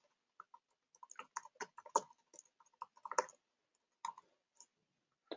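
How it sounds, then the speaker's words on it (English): A URL being typed on a computer keyboard: quiet, irregular key clicks in small bursts and single taps, close and alone with pauses between groups. "I'm going to type in the URL where you can get all this stuff."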